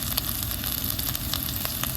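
Cumin, garlic and small shallots sizzle steadily in hot oil for a Kerala drumstick-leaf thoran, a dense, continuous frying hiss with faint crackles, close and alone.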